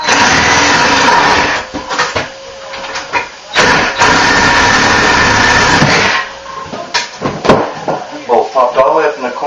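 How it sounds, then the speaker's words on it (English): A sawzall cuts through rusted bolts during a bathroom remodel, with loud rasping bursts that start and stop, separated by short pauses and clanks. "All I wanted to do was spin, so I'm going to hit them with a sawzall"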